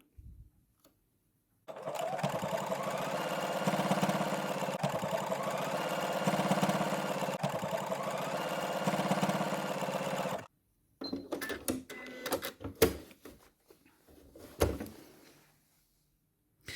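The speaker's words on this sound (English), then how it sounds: "Put the foot down, and then basically sew the buttonhole." A sewing machine stitches a buttonhole, running in one steady, fast mechanical whir for about nine seconds, then falling silent before a few clicks and handling noises.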